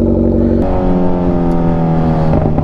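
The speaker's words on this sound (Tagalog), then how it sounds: "forward na ako dahil sobrang ingay ng motor" A Kawasaki Z1000 motorcycle engine drones loudly and steadily during a group ride in Batangas, with a deep rumbling tone that shifts pitch slightly as the throttle changes, close and continuous throughout.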